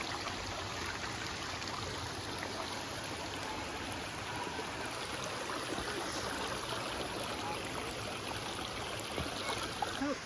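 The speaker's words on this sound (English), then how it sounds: "You can hear the waterfall." A waterfall heard from a trail approach, a steady broadband rushing of falling water at moderate distance, continuous and unchanging with no voices.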